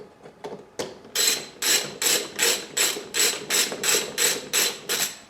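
A ratchet tightening bolts on a Honda CX500 motorcycle regulator rectifier, a close, loud series of about ten rhythmic rasping clicks in steady strokes after a few lighter taps, with no talking.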